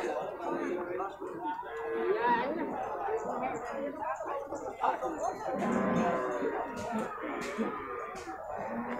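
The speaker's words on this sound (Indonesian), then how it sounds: "pasar sapi Purwakarta ya" Busy cattle market at Pasar Hewan Purwakarta in Indonesia, with PO Pegon cattle lowing now and then beneath a constant crowd chatter of bargaining voices.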